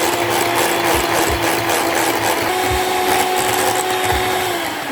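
An electric hand mixer whips a kulfa ice cream mixture with added sugar, giving a continuous loud whirring drone with regular soft knocks of the beaters against the bowl, alone without speech.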